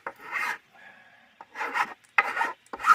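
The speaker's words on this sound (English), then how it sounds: "this, this is a bastard file, but it's actually pretty fine in my opinion" Bastard file rasping across wood in short hand strokes, four distinct scraping passes with brief pauses between, close and fairly quiet, no talking.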